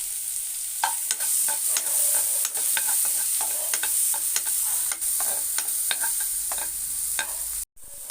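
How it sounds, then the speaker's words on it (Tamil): Pineapple pieces sautéing in ghee for kesari, a steady hiss of frying under repeated scraping stirs of a spoon against the pan, close and continuous with a brief break near the end. "இப்போ பைனாப்பிளை போட்டு கொஞ்சம் நல்லா வதக்கிக்கலாம் நம்ம நெய்யில்"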